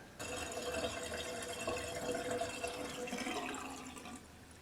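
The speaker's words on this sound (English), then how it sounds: "Now we'll go ahead and rinse that out." Water running from a tap to rinse out a Comfort Grip scrub brush, a steady splashing stream starting abruptly and continuing close and moderately loud for several seconds, no talk.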